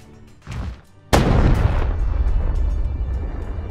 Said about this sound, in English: you guys can hear the sound of a gunshot,